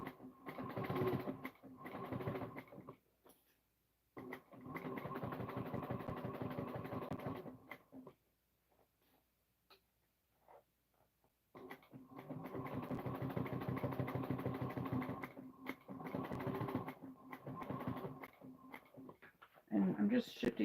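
A sewing machine stitches a messenger bag in three steady runs of rapid mechanical whirring, separated by short quiet pauses as the bag is shifted.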